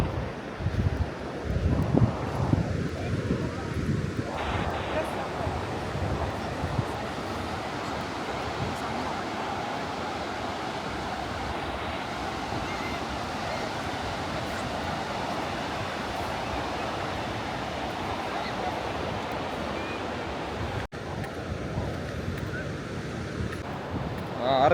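Surf washing onto Portobello Beach in Edinburgh, a steady broadband rush of waves under heavy wind buffeting the microphone, continuous and fairly loud throughout with faint voices in the background.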